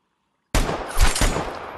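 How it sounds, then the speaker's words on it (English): Video game gunfire bursts in after a moment of silence: a close, loud rattle of shots with a couple of heavier cracks layered into a continuous, rolling volley. "Keep hearing all the shooting"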